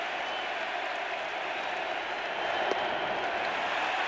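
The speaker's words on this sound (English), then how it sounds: "Now Donaldson gets a hit. Crowd's going crazy." A large baseball stadium crowd roars and cheers steadily during an ALCS playoff game in Cleveland, a dense wash of noise that holds at an even level throughout.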